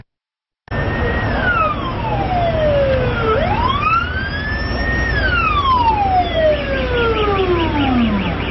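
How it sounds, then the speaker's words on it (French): A fire brigade vehicle arriving at a traffic accident in the Bonanjo district, its siren loud and close, wailing in long slow rising and falling sweeps after a brief silence and sounding continuously to the end. "Ce véhicule des sapeurs-pompiers arrivé en rescousse vient ainsi secourir la victime de cet accident de la circulation"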